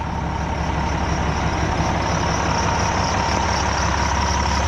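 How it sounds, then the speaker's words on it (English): A big International 7600 truck idles close by, a steady, dense low rumble that holds unbroken and loud throughout, with no voices over it. "So this truck is International 7600, I think, 8LL."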